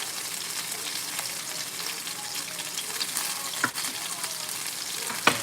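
Green beans stirred in a hot frying pan, a steady sizzle running throughout with a couple of sharper scraping clicks from the utensil near the end.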